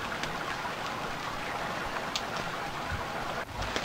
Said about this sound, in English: the sound of rain is pretty realistic, but it is way too hard.